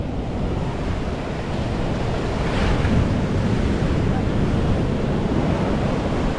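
Ocean surf rushes back out across a sandy beach, a continuous loud wash of water with steady wind buffeting the microphone and a swelling surge midway, no voices.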